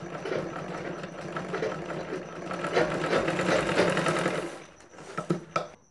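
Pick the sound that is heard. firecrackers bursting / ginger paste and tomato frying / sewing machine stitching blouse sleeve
sewing machine stitching blouse sleeve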